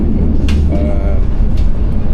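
Steady low rumble and rolling noise inside a luxury passenger train carriage on a two-hour trip, continuous and fairly loud throughout with a faint squeal partway, no clear talk over it.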